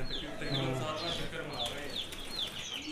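Pigeons cooing in soft repeated calls close by, including a white pigeon, with a steady background hum and faint voices mixed in.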